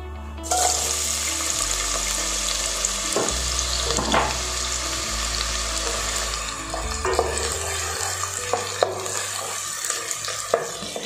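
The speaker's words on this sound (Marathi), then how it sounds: "तर आता आपलं तेल गरम झालेलं आहे, तर त्याच्यामध्ये मी बारीक चिरलेला कांदा घालते।" Finely chopped onion dropped into hot oil for a spicy village-style mutton rassa, producing a loud, steady, hissing sizzle with a few sharper crackles and stirring knocks, close by and with no talking.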